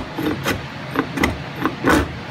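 A slick, a large woodworking chisel, pares wood in slow rasping strokes, about five close scraping pushes with short pauses between them, heard alone.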